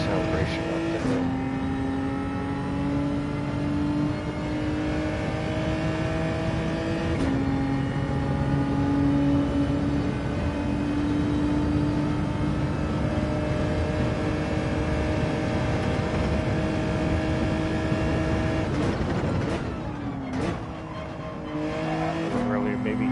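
A race car engine drones steadily as it climbs a hill, its pitch rising through the gears with brief dips at the shifts, loud and sustained, with a voice talking over it.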